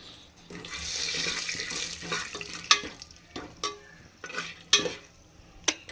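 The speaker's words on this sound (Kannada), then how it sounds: "ಸ್ಪೂನ್ ತಗೊಂಡು ಕಳ್ಸೋಣ ಕ್ಲೀನಾಗಿ" Running tap water splashes as a spoon is rinsed clean at a kitchen sink, the stream rising and falling, punctuated by several sharp metallic clinks of the spoon against the sink or dishes.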